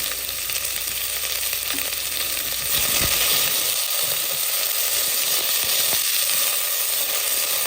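Chopped onion hits hot oil in a pan for zeera rice, giving a steady, loud sizzle that runs throughout, with a brief sharper crackle near the middle and no talking.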